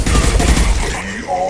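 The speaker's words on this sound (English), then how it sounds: "Firing an impact gun!" Rapid burst of impact gun fire in the Mass Effect video game, a loud dense fusillade of shots that tails off after about a second, with faint voices underneath.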